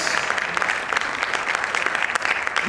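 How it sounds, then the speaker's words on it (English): A talk-show audience applauds at a women-empowerment panel, dense continuous clapping filling the short stretch at steady loudness with no voices on top. "a big round of applause"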